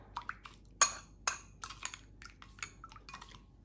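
A utensil stirs an eggplant appetizer with garlic in a dish, giving irregular close clinks and scrapes against the dish over a quiet background.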